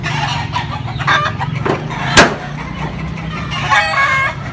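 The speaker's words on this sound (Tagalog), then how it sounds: "sa likod ni Arnel, meron pong manok." A rooster crows loudly nearby on a rural farm in Pampanga, Philippines, with hens clucking around it and farmyard bustle in the background.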